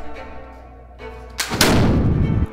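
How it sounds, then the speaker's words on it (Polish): A Prussian soldier fires a gunshot into the air at a large mountain fortress, a loud sharp blast with a rolling, echoing boom after a quiet stretch of background sound. "Gdy usłyszysz huk niosący się w oddali, to wiesz, że pruski żołnierz oddał właśnie strzał."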